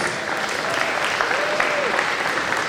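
Crowd applause for the underclassmen at a high school bocce senior night, steady dense clapping throughout with a voice faintly speaking over it.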